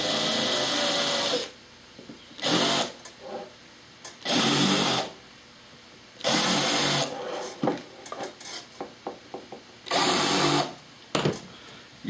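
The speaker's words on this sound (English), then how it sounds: "This is a countersink, and here's what we're going to use it for." A drill spinning a countersink bit for hinge holes in a model runs in several loud bursts of high whirring, each one to two seconds long, separated by pauses with light clicks and handling taps.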